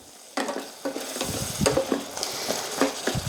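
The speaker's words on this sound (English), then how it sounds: "If your onions are cooking, it's important to remember to give them a stir so nothing burns to the bottom" Onions frying in a pot for carrot soup, stirred with a utensil that scrapes the bottom, giving repeated scraping strokes over a steady sizzle, close and moderately loud with no talking.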